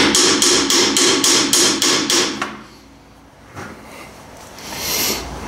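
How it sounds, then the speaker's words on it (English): Hammer blows land on the console of a Ford 800 tractor: about eight loud, evenly spaced metallic strikes, close by, followed by a quieter stretch of faint shop noise. "We'll go grab a hammer"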